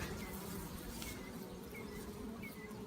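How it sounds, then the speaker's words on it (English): Honey bees hum in a dense, steady drone from an opened hive with the top lid removed, close and continuous, with a few individual bees whining past. "A lot of bees in there."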